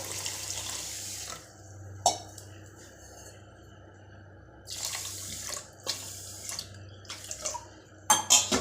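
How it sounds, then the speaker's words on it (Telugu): Water poured over sugar in a pot to make syrup for boondi laddu, a close splashing pour with clinks of a metal vessel and utensils, intermittent bursts over a low steady hum. "ఆ పంచదార మునిగే వరకు నీళ్ళు పోద్దాం"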